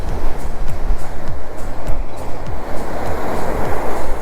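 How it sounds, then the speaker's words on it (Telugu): Sea waves at a North Goa beach washing up over stone steps, a loud close rushing and churning of water that surges and recedes repeatedly, with faint background voices. "మనకి అలలు అక్కడ నుంచి ఇక్కడ వరకు వస్తున్నాయి వాటర్."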